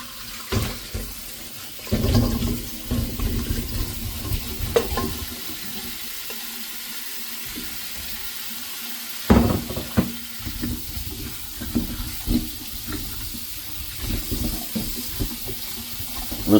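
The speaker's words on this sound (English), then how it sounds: "Rinse it with cool water." Sweet potatoes rinsed under cool running tap water at a kitchen sink, a steady splashing flow with brief louder bursts and clatter, close and fairly loud, no talking.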